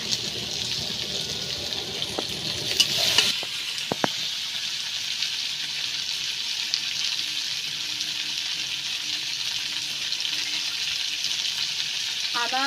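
Potatoes frying in a pan for a home-cooked spinach and prawn dish, a steady loud sizzle throughout with a few clinks of stirring near the start and faint talk in the background.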